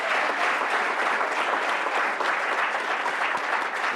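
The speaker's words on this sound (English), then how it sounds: "Let's give our children a round of applause." An audience at a business meeting applauds children, a steady, dense round of clapping from many hands that stays even and continuous throughout, with no voices over it.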